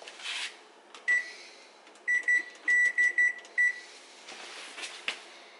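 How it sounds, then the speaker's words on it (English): Kitchen timer going off while a dairy-free pizza bakes: a run of sharp, bright electronic beeps in quick clusters, fairly close, over a quiet background hum with no talking. "Now that the timer has gone off, you just want to check the pizza"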